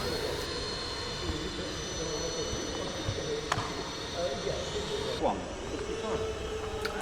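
A steady whining drone of an RC model plane modelled on the Canberra bomber carries on throughout as it flies and comes in to land, heard from a distance beneath a voice talking.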